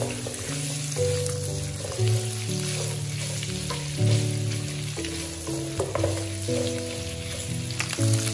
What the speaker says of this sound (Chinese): 我们把排骨煎至表面有一点金黄就差不多了。